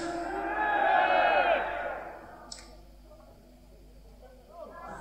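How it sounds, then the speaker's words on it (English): A rock concert crowd at a gig in Nottingham roars and cheers loudly for a couple of seconds, then fades to a low murmur with a few claps and a distant shout. "We have a headbanging crowd here tonight,"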